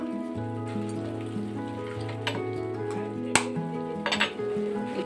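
Eggs fry in a pan on a gas stove while cooking an Indian egg curry, giving a continuous sizzle under steady background music with a few light clinks of utensils.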